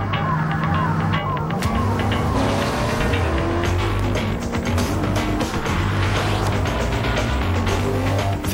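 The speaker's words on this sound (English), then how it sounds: "The newly redesigned 2004 Pontiac Grand Prix with 260 horsepower to help you get the most out of your ride" A 2004 Pontiac Grand Prix with a 260-horsepower engine driving hard, a loud steady engine drone with shifting tones and a swishing rush of passing motion throughout.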